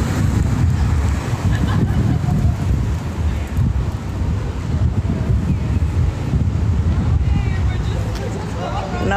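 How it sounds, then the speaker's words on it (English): Wind gusting outdoors on a hot day, a steady loud buffeting roar across the microphone that swells and eases without pause. "It's hot, but the wind blowing."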